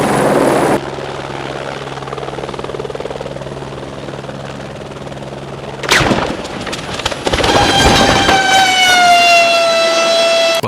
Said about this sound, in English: a helicopter's rotor struck a cable, causing the aircraft to crash to the ground